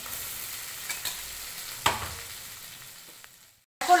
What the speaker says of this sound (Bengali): দিয়ে দেব পোস্ত আর কাঁচা লঙ্কা আর পেঁয়াজের পেস্ট, এটা দিয়ে একটু কষে নিয়ে দিয়ে দেব জল।